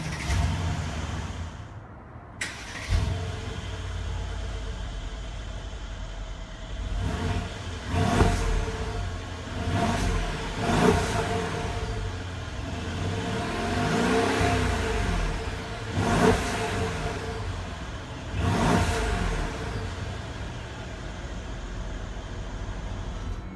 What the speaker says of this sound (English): Let's start the car and hear how it sounds.